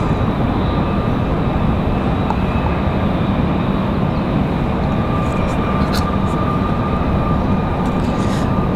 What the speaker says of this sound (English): This is going to be Breeze Airways coming in from Akron, Ohio, I believe.